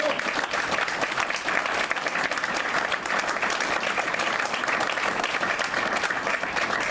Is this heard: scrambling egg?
no